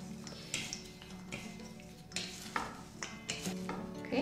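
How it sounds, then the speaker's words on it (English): Broccoli salad stirred with a knife in a bowl, with repeated scraping clinks and soft tossing sounds in an uneven rhythm, close and moderately quiet. "I'll take the help of the knife and I'll mix my salad."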